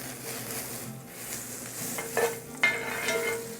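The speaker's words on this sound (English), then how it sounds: "Nice sizzle right there." Butter sizzles steadily in a hot cast iron skillet with a soft crackling hiss, and a couple of light clinks of a utensil against the pan.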